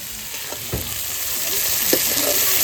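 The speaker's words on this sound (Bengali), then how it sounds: "পেঁয়াজটাকে লাল লাল করে ভালো করে ভেজে নিই" Onions sizzle and crackle in a hot pan, a steady loud frying hiss with a few scraping stirs.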